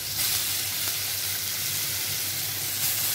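Green chilies and ash gourd pieces hit hot oil over a cumin seed tempering, producing a loud, steady, close hissing sizzle that continues unbroken with no talking.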